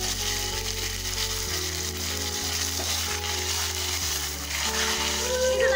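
Mustard seeds, fenugreek, dried red chillies and curry leaves frying in hot oil for a Kerala-style mango pulissery tempering, a steady close crackling sizzle with a few sharper pops throughout, no talking.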